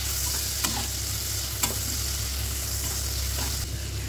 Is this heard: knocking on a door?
no